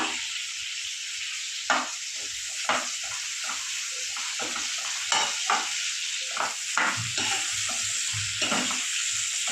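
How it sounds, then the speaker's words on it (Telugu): Green chillies and onions fry in oil in a pan for a paneer curry, giving a steady close sizzle broken by repeated stirring scrapes and taps, and no one speaks. "ఇట్లా పచ్చిమిర్చి ఆనియన్స్ వేసుకున్న తర్వాత ఇవైతే కొంచెం ఫ్రై అవ్వనివ్వాలన్నమాట"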